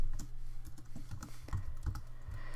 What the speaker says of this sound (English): I really suck at typing sometimes.